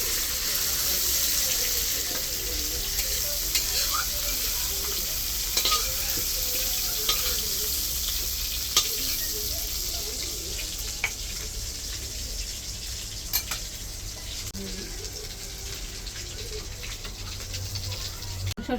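Mustard paste fries in hot oil in a pan, giving a continuous sizzling hiss with scattered small pops and scraping stirs, close and fairly steady throughout.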